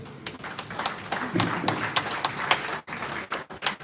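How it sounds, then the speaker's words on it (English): A short burst of clapping from a small group, quick irregular claps close by with a brief dip midway. "round of applause."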